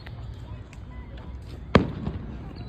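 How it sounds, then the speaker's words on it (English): A single sharp firework burst cracks once, loud and close, over a steady background murmur of a crowd with a voice nearby, followed by a faint smaller pop. "Lots of fireworks are awesome."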